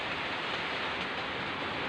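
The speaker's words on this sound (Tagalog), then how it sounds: "Pero umuulan." A steady, dense hiss of rain falling on a hot afternoon, constant and fairly loud throughout with no distinct drops or voices.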